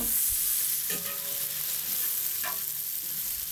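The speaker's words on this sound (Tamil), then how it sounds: "நம்ம நல்லா வெங்காயத்தை வதக்கிக்கலாம்" A large batch of onions sizzles loudly in ghee in a big pot for beef biryani, a dense continuous frying hiss with a couple of stirring scrapes.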